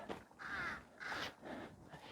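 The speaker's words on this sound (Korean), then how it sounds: "까마귀가 짖네요." A crow caws three times in a row along a walking path, the harsh calls close and clear with a short pause between each.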